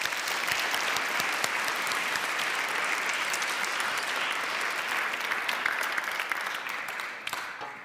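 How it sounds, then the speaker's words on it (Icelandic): A church congregation claps steadily together after a confirmation verse is read, a dense, sustained wash of applause at an even level that thins slightly in the last moments. "Glæsilegt, ef ekki gefa þeim gott klapp."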